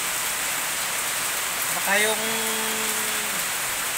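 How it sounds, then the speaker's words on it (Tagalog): Heavy rain falls steadily in a broadband hiss that runs through the whole stretch, with a brief voice speaking over it partway. "malakas ang ulan"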